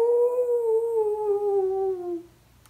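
A storyteller's voice imitates a wolf's long, mournful howl, one sustained wavering tone that slowly falls in pitch over about two seconds before cutting off, close and clear with no other talk.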